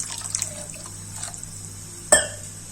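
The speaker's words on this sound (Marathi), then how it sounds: "त्यामुळे याच्यात मी थोडंसं पाणी ऍड करते." Water poured into a pot of black pea usal gives a soft liquid trickle and drip, followed by one sharp splash or clink near the end, close and quiet with no talking.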